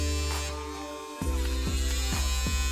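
A PMD microdermabrasion device suctions dead skin cells from the face: a steady electric buzzing hum that drops in pitch and then pulses in rhythmic surges of suction as it drags across skin, close and fairly loud, with no talking.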